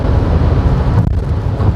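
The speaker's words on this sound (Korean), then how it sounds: "확실히 이제 속도가 높아지면서 바람 소리는 점점 커집니다" A steady, loud low roar of wind buffeting the interior of a moving QM6 GDe gasoline SUV at speed, constant and unbroken, with no voices.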